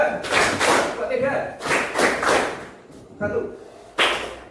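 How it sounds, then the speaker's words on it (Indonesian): Rhythmic counted clapping game led in a classroom-style lesson, sharp claps landing in short groups between bursts of speaking, close and fairly loud. "Tepuk 1, tepuk 2,"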